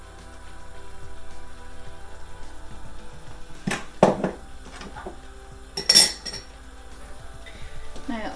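Diet Coke chicken being stirred in a pot, with soft scraping and a few sharp metallic clinks of a utensil against the pot, close by, with a low background hum.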